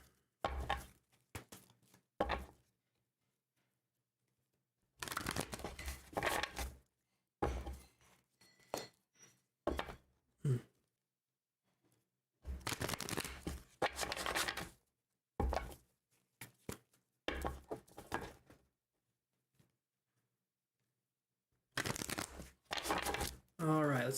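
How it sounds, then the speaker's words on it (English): Tarot cards being shuffled by hand during a live psychic reading come through as bursts of papery riffling and card slaps, several short rounds separated by pauses. "as I shuffle and get these all shuffled"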